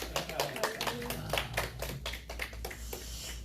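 A church congregation at a Sunday service claps, the claps scattered and uneven, with a few sharp hand strikes standing out over a low steady hum.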